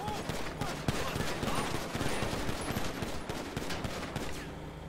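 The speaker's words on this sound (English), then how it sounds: "Is that shots? Oh, that's shots." Gunshots heard from a home, a fast fusillade of sharp reports over dense, noisy background for the whole stretch.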